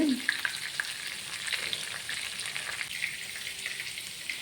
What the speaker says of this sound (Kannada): ಇವಾಗ ಇದು ಫ್ರೈ ಆಗಲಿ ಚೆನ್ನಾಗಿ